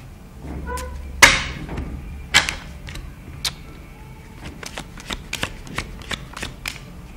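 Fortune-telling cards being shuffled at a card reader's table: a sharp riffle burst near the start, followed by scattered crisp card snaps and light taps at an uneven rhythm, close and moderately loud.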